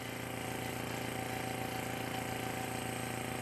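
A Maxi-Vent air pump compressor on a well water tank runs with a steady close mechanical chug and rattle, an even pulsing drone that holds unchanged as it builds pressure.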